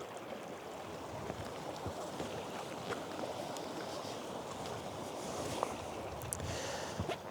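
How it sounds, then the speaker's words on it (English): Wind rushing through a river canyon in a steady, dense roar, broad and unbroken for the whole stretch with only slight gusty swells and faint crackles within it. "there's quite a bit of wind coming through the canyon here"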